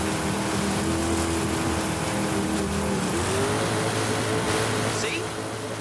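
An old car driven in the racing game Forza Horizon 5 holds a steady engine drone with a shifting pitch, close and loud, while a voice talks over it throughout.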